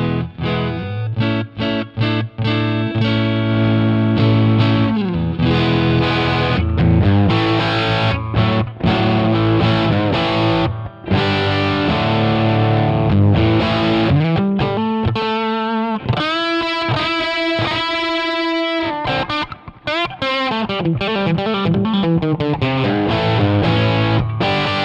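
Electric guitar through a newer high-gain amp model on a Line 6 Pod HD500, a loud, saturated distorted riff with sustained chords and faster single-note runs, continuous for about twenty-five seconds with no talk.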